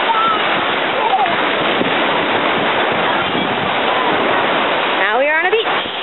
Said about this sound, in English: Now we are on a beach.